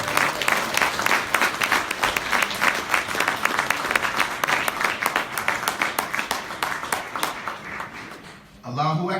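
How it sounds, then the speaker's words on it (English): A mosque congregation gives a long round of applause at a Saviours' Day student ministry event, clearly separate claps in a fairly steady rhythm for several seconds before a voice cuts in at the end. "Let us bring to the round, with a round of applause, our beloved brother John Muhammad."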